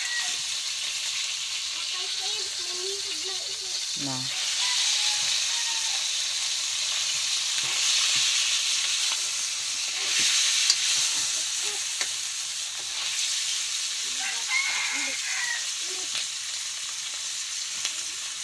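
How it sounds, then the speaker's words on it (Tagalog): Frozen bacon fries in a pan with a constant crackling sizzle that runs through the whole clip, close by. Someone speaks briefly now and then over the frying. "Ako lang una siyang barag prito guys"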